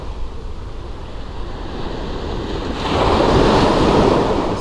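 Ocean waves washing onto a beach, a continuous rushing surf with wind buffeting the microphone, swelling louder as a wave breaks near the end, with no voices.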